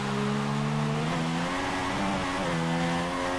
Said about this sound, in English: a little short shift there again, and then you start using the revs.